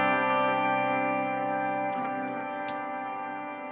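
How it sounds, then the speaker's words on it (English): A sustained electric guitar chord through a Fractal FM3 MKII Turbo rings out with a long, shimmering reverb tail that slowly fades, with faint pick scrapes partway through. "that long decay that you're hearing right now"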